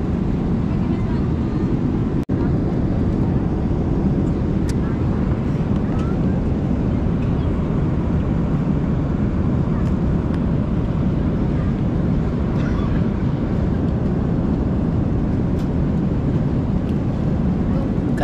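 A constant loud, broadband roar of airplane cabin noise fills a long flight to Riyadh, Saudi Arabia, steady and unbroken with only small clicks along the way.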